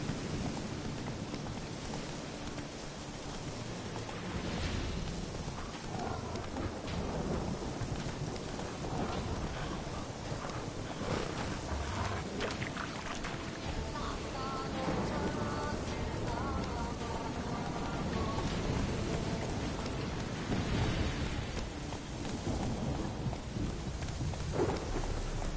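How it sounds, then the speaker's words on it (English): Steady rain with rumbling thunder in The Witcher 3 video game, a continuous dense wash of rainfall throughout with louder rolls of thunder swelling in the background, no talk over it. "Rain plenty."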